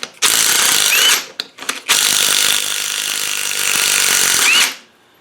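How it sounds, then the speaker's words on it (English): Steady high whirring buzz of a power wrench undoing a 19mm nut on the top cover of an Adwest Lightweight steering box from a TDCi, in two long bursts with a brief stutter between, close and loud on a workbench. "Need a 19mm to get that nut off here."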